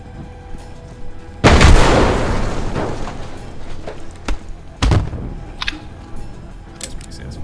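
A loud, booming grenade launcher explosion in the shooter game Dead Fury, a sharp blast with a long rumbling decay, followed by a second thud and scattered smaller impacts.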